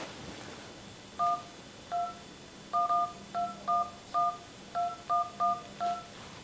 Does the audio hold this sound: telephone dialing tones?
yes